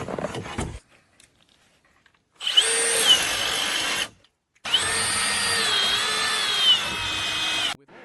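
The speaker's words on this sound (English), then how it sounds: "He climbs back up, leveling a heavy drill at the timber to bore deep structural holes." A heavy drill bores deep structural holes into log timber on an off-grid winter cabin build, running in two loud sustained bursts separated by a brief pause, with a short rough noise at the start.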